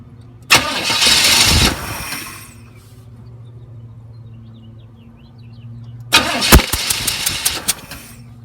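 Chevrolet Chevelle engine cranked with the key during a compression test: two loud, close bursts of starter cranking, each a couple of seconds long, with a quiet pause between and no talking.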